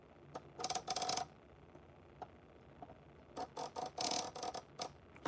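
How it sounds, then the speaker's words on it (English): Relays in a 2010 Dodge TIPM fuse box click in quick bursts, with sharp broadband ticks in two clustered groups separated by a quieter gap, close and fairly faint. "If you hear a click, that means your fuse relay is working."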